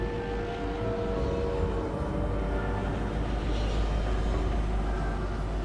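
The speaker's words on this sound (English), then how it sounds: "Oh, there's a train, there's a train." A train rolls past in the Fortnite video game, a continuous loud rumble with steady droning tones and no break throughout.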